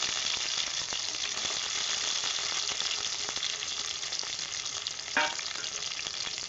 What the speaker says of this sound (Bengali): এরপর আমি টমেটোটা দিয়ে দেব। টমেটোটা দিয়ে দিলাম।